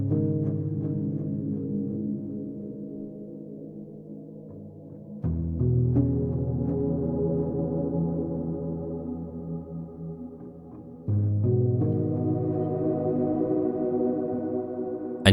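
Dark ambient synth pads drenched in Valhalla Supermassive reverb at a 100% wet mix, widened with an Ozone imager; slow, sustained chords swell and shift twice, loud and continuous, with no voice.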